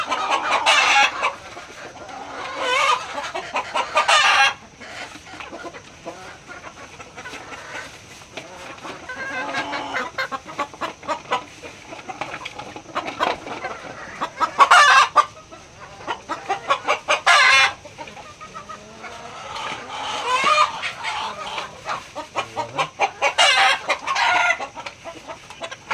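Chickens on a poultry farm cluck steadily and nearby, with repeated louder bursts of squawking and occasional crowing, and no one talking.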